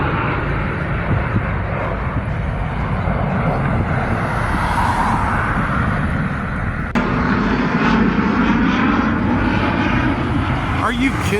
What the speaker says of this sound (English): trying to catch fighter planes on video.